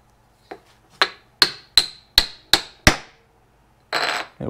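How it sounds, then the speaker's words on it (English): Six sharp, ringing hammer strikes drive an alignment pin into a cherry and walnut wooden stand base in a steady rhythm, close and loud, followed by a short burst of noisy rustling. "hopefully I can hammer this all the way down"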